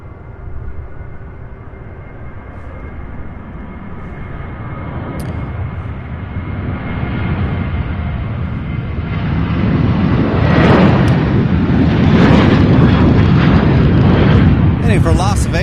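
A Southwest jet takes off from Louisville International Airport, its roar building from a low rumble to a loud, broad blast over about fifteen seconds, with no talk over it.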